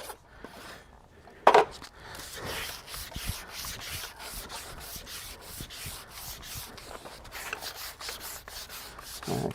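A farrier works a rasp over the outer bottom edge of a horse's hoof, a close, steady run of dry scraping strokes in a quick rhythm, with one sharp knock near the start.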